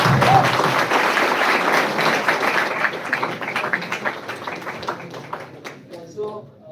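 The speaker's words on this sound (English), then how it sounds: "Come on, cheer guys!" An audience at a hackathon opening ceremony claps and cheers together, a dense, loud burst of applause that gradually thins and fades toward the end.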